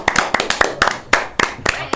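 A few people clapping close by in a casual indoor setting, loose sharp claps in an uneven rhythm, about a dozen distinct hits, with speech faintly underneath.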